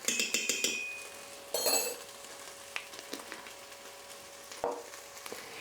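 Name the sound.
garlic and spices frying in a pan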